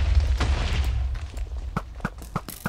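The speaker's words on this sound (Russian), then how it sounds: "Он вот так стреляет и при этом взрывается все." Weapon fire and explosions from the Draconic Evolution mod in Minecraft: a dense, rumbling low boom fills the first half, followed by a rapid string of sharp, evenly spaced blasts, with no talking.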